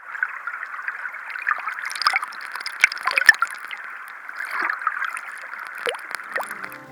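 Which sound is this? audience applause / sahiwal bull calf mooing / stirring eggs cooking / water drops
water drops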